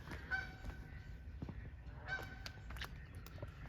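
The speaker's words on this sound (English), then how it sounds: "the geese, they're all in an uproar." Geese honk repeatedly in a noisy, overlapping chorus by a creek, several birds calling at once from a moderate distance.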